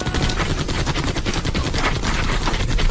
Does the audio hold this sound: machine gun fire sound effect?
yes